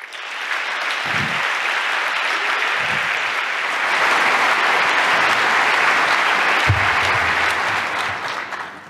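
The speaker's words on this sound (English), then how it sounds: "Please welcome, with an anniversary edition, applause, Chris Galinsky." Conference audience applauding a speaker's introduction at a hacker congress, loud sustained clapping that swells and holds for several seconds before fading.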